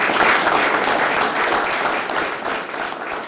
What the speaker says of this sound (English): Give everybody in the room a round of applause.